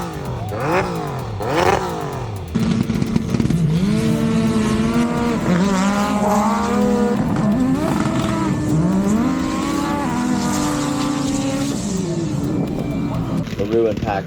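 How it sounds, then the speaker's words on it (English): UTV race cars scream past at a Sand Hollow rally fest, engines revving high and rising and falling in pitch as they pass close by, loud and continuous with a voice talking over them. "But mad props to these guys coming out showing these fast cars because they scream."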